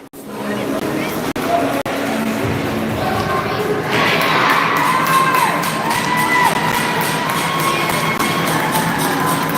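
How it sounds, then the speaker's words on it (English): Supporters of a rival team cheer and whoop at a Montreal Super Challenge game between the Nova Scotia Raiders and the Sheriffs, a loud crowd roar that swells partway through, with voices and babble close by. "Here's our longtime rivals cheering us on, though."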